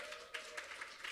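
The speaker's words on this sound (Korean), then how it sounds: "다시 한번 큰 박수 부탁드리겠습니다." Applause from a lecture audience, a soft steady patter of many hands, faint and brief with no voice over it.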